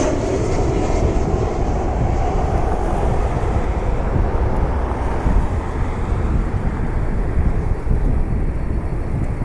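United Airlines jet arriving at Cleveland Hopkins airport in severe weather, a loud, continuous broadband engine roar with rumbling low end and some wind buffeting on the microphone, no voices.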